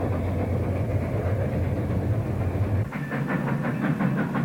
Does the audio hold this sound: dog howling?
no